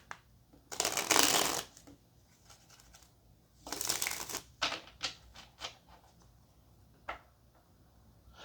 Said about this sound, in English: one more shuffle for Leo